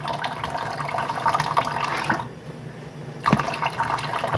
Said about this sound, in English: Just slowly add water to it until it comes to a nice knead